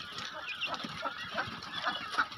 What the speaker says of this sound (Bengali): দেখছেন কত সুন্দর জাপান কোয়েল